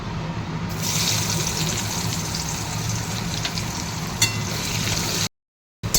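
Chopped onions fry lightly in a pan until reddish, giving a steady, even sizzling hiss that runs close and unbroken for several seconds before cutting out briefly near the end.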